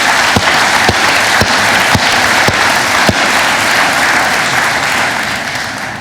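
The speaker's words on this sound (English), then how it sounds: "please give a big applause to our team" Conference audience applauding after a keynote speaker thanks the organising team, a dense steady clapping with a few louder sharp claps early on, fading slightly toward the end.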